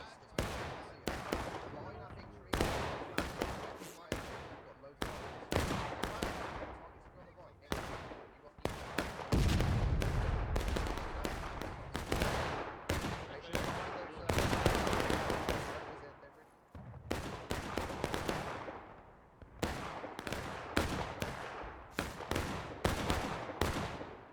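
Independent musket fire in the Civil War game War of Rights, a long ragged string of sharp gunshots cracking out at irregular intervals, near and far, with occasional voices mixed in.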